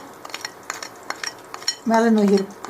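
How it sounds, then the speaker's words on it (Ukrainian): A spoon works through a bowl of minced frozen herring cutlet mixture with raw egg, salt, pepper and semolina, giving quick scraping clicks and light clinks, with a brief tonal hum near the end. "вимішуємо масу"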